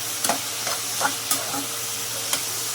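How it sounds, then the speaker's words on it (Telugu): Onions with salt stirred in a pan for Andhra-style chicken curry, a steady sizzle broken by several sharp scraping strokes of the spoon, close and alone. "బాగా సాల్ట్ వేసుకొని కొంచెం అలాగా మిక్స్ చేసుకొని"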